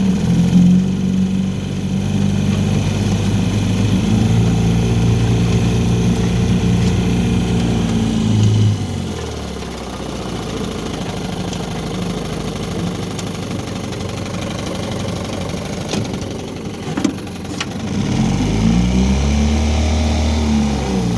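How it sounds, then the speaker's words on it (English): A 1960 Evinrude Fisherman 5.5 hp two-stroke outboard motor, running on a 16-to-1 fuel mix, runs in reverse as a boat backs away from a pond shore. The engine drones steadily and fairly loud, easing off midway and then building again near the end. "I'm going to show you reverse as we back away from shore"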